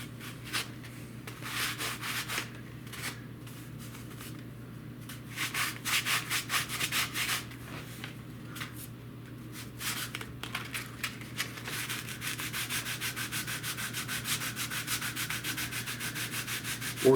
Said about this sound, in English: And then just start sanding.